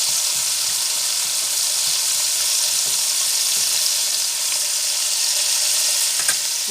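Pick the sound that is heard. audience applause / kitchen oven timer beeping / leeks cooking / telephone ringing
leeks cooking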